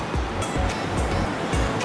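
Rushing water from a waterfall in a mountain setting roars as a loud, continuous broadband wash with rhythmic surging, close and dominant, no speech.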